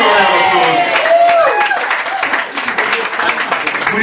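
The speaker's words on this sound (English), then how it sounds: "Give him a round of applause" An audience at a ventriloquism and magic stand-up comedy show breaking into applause, loud continuous clapping from the crowd with a few cheers and whoops mixed in.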